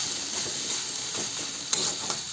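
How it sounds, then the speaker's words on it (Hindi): A spatula scrapes and stirs red amaranth greens with broken bari (dried lentil dumplings) in a pan, soft sizzling under a few light scraping strokes and one sharper clack, close and fairly quiet with no talking. "सारा बरी साग में डाल देंगे और इसको अच्छे से चला के मिक्स कर लेंगे"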